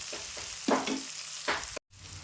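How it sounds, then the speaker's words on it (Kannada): Chopped onion and green chillies frying in a pan, a soft steady sizzle broken by a few short stirring scrapes and one brief silent gap near the end. "ಈಗ ನೋಡ್ರಿ ಉಳ್ಳಾಗಡ್ಡಿ ಮೆಣಸಿನ್ಕಾಯಿ ಒಂದು ಸ್ವಲ್ಪ ಫ್ರೈ ಅವ್ರಿ"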